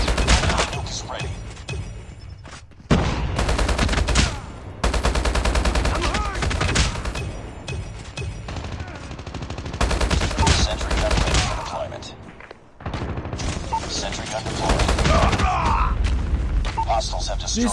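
Rapid assault rifle bursts from the HBRa3 in Call of Duty Mobile crack in short loud volleys separated by brief pauses, mixed with in-game booms and mechanical clatter, while a voice talks over parts of the action.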